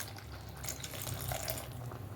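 Tamarind water poured into a pot of Udupi sambar with tomato, a steady watery pouring and splashing heard up close for a couple of seconds, with no talk over it.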